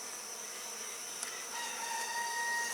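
Honeybees buzzing during a honey harvest, a steady insect drone filling the clip with no talk.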